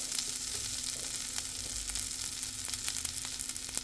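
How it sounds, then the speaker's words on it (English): A vegan breakfast sausage patty sizzles steadily in an oiled skillet, a close, even crackle with faint pops scattered through and no voices over it. "I'm going to place that gently into my skillet. And it's gonna start cooking."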